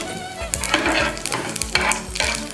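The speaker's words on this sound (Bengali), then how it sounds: "আমার তেলটা গরম হয়ে গেছে, আমি কালো জিরে ফেলে দিলাম।" Nigella seeds hit hot oil in a pan and sizzle loudly and continuously up close, with a low rhythmic bubbling pulse beneath the crackle.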